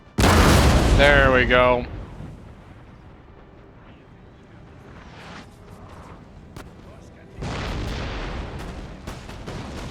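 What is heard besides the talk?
cannon and artillery fire in the video game Napoleon: Total War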